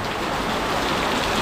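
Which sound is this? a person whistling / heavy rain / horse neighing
heavy rain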